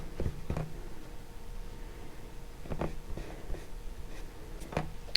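A pencil sketching a human figure on paper, with a few short scratchy strokes in separate bursts, close and fairly quiet, with no talking over them.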